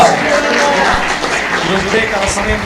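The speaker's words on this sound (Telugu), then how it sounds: "గట్టిగా చప్పట్లు మీద మహిమపరుద్దాం" A Sunday service congregation at a church in Warangal clapping loudly together, a dense, continuous patter of applause with voices mixed in.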